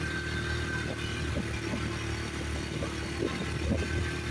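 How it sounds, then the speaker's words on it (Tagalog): Motorcycle laboring up a steep mountain road, its engine held at a steady strained drone with a busy rumble and clatter underneath, close and continuous for the whole stretch. "Mataas yan mga lods. Yan, nahihirapan yung aming motor."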